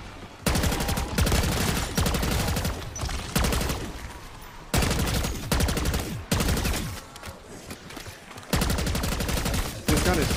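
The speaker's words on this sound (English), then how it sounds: "supersonic crusher is not playing around as a gun" Rapid automatic bursts from the supersonic crusher gun in Black Ops 6 Zombies, loud sustained strings of shots in several volleys separated by short gaps.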